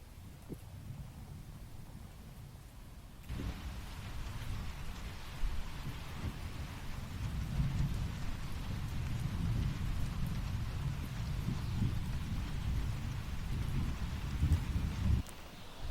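Steady rain falls through a late-winter or early-spring storm, with low rumbling thunder rolling underneath; the downpour thickens after a few seconds and continues as a dense, constant wash with no voices.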